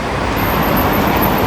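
Street traffic near Cantagalo station in Copacabana, Rio de Janeiro, with cars turning at a corner; a loud, steady roadway rumble and hiss from close by.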